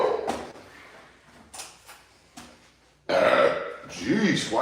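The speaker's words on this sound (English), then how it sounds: "Jeez, why do you gotta burp like that?" A loud, drawn-out burp from someone in an apartment where floors are being mopped, rumbling for about a second and a half after some quieter household clatter.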